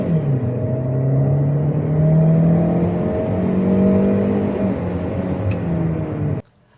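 A Geely Okavango or Chery Tiggo 8 SUV with a dual-clutch transmission pulls away from a standstill, its engine droning and rising steadily under load for several seconds before cutting off abruptly.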